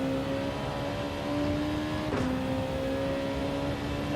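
A race car in Gran Turismo 7 holds a steady, even engine drone, with a brief whoosh midway, alone and without talking.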